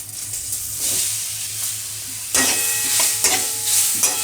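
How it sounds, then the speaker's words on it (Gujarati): Flour roasts in a pan while it is stirred for a Gujarati ripe mango garmanu, giving a steady hiss and scrape. Mango pieces then drop in with a sharper sizzle and a few clinking stirs, all close and loud with no talking. "આ રીતનો આપણે લોટ શેકી લેવાનો"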